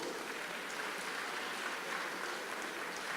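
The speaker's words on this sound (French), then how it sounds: "Mme Guédu Pauline, que je demande d'applaudir bien fort" Steady clapping from an audience at a mayor's New Year greetings event for municipal staff, a dense continuous patter filling the whole moment with no voice over it.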